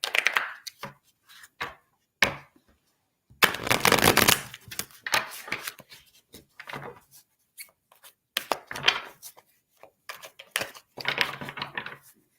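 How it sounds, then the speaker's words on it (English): Tarot cards are shuffled in a quiet room: irregular soft riffling and slapping bursts, with one longer, louder riffle and scattered light taps between, close and without talk. "So we're gonna pull some tarot cards for you, Daisy."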